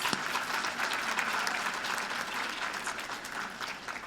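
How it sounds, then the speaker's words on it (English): Audience applause fills a luncheon hall, a steady, dense wash of many hands clapping throughout, fairly loud and even with no voices rising above it. "So let's give them a warm round of applause."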